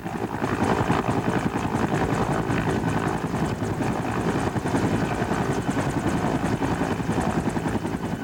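A Bell 205 helicopter thumps loudly and continuously, its rotor beating in a fast, even rhythm close by, with no voices.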